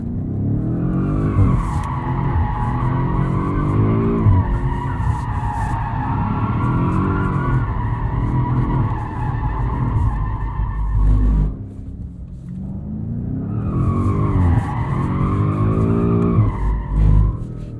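A 2021 BMW M5 Competition drifting in second gear with stability control fully off, its engine roaring loud and close while the tires squeal steadily for about eleven seconds, then cut briefly before another long squealing slide.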